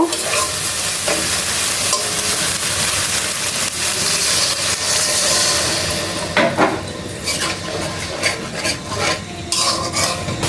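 Onions fry in a pan with a loud, steady hiss and stirring scrapes. Partway through, water goes in and the sizzle breaks into sputtering, uneven crackle.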